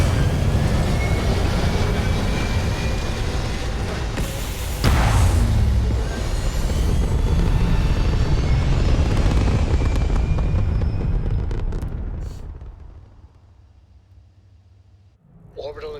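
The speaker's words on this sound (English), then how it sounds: "Prepare for liftoff." A spaceship lifts off in the video game Starfield, a loud sustained roaring rumble with a burst partway through that fades toward the end, with voices talking over it.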